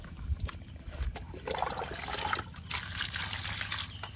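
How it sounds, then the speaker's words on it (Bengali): Cut hilsa fish are rinsed under running water, with a close, steady trickle and splash and occasional sloshing as the pieces are handled. "এই মাছগুলো এনেছি বাজার থেকে কাটিয়ে, আর এগুলো ভালো করে এখন ধুয়ে নেবো"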